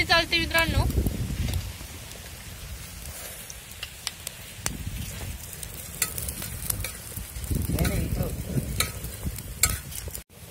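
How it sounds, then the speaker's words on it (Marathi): Lentils and peanuts dry-roasting together in a pan give a continuous soft rustle and crackle as they are stirred, with scattered sharp ticks and a brief voice at the start. "आणि डाळ आणि शेंगदाणे एकत्र टाकून भाजून घेऊ राहिले"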